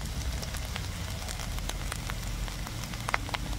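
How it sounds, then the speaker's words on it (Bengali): Ginger, garlic, onion, cumin and dried chilli frying in hot oil give a steady crackling sizzle with scattered sharp pops, close and even throughout. "আদা রসুন পেঁয়াজ জিরে শুকনো লঙ্কা একসঙ্গে মিক্স করে একটু কষাবো।"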